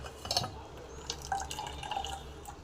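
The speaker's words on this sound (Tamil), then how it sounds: "இதை வடிகட்டி இந்த பால் மட்டும் தனியாக எடுத்துடலாங்க." Coconut milk being strained drips and trickles into a container in soft, scattered drops close by, with a quiet kitchen background.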